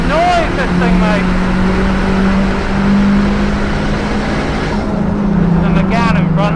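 A loud 430bhp Clio race car engine roars steadily throughout, with a sustained low drone and a voice talking over it.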